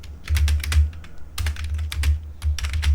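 Rapid keyboard typing while code is entered on a computer: clusters of crisp, close key clicks with short pauses between bursts, no voices.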